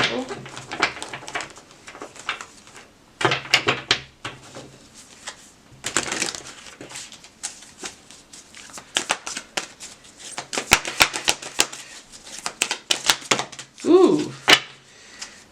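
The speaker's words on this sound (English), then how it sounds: "One more shuffle." A tarot deck is shuffled by hand in several short, crisp bursts of riffling and card slaps separated by pauses, close up, with a voice murmuring briefly near the end.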